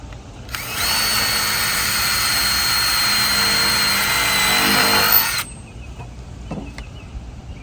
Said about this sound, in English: Always have to pre-drill.